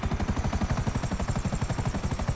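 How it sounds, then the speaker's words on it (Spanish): A helicopter in a GTA video game gives off a loud, steady, rapid rotor chop that pulses evenly throughout, with no voices. "llevaremos el helicóptero al globo y lo vamos a estrellar"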